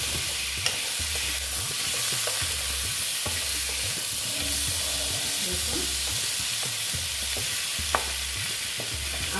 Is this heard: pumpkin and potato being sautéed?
yes